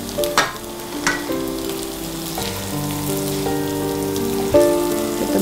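Steamed kozhukkatta rice dumplings are stirred through a chilli masala frying in a pan, a continuous crackling sizzle with light stirring scrapes, heard beneath sustained background music tones.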